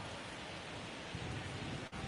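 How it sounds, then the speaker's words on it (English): Rain pours steadily during a baseball game in the MLB The Show 24 video game, a dense, even hiss of downpour with a faint low rumble and one brief dip near the end. "It feels like we might be headed towards a rain delay if the weather doesn't ease up, Chris."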